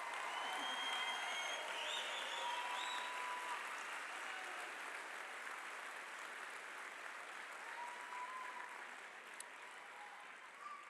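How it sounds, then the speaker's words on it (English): A graduation audience claps in sustained, dense applause for a police academy class, loud at first and gradually easing over about ten seconds. "Let's give all of 214 one final round of applause."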